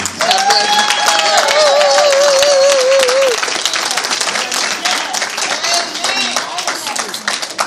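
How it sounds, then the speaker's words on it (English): Loud, sustained applause from a large crowd at a fundraiser, with a voice singing or calling out over it at first before the clapping continues alone. "Give another round of applause."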